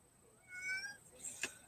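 A cat meows faintly a couple of times in a quiet room, a short drawn-out cry followed by a higher, sharper one.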